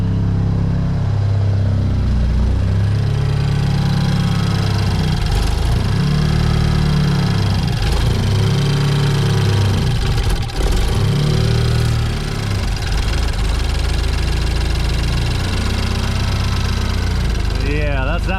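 The engine of a BMW Z4 E89, freshly fitted with a new timing chain, runs steadily at idle, loud and close, with a continuous low rumble and a faint irregular knocking throughout.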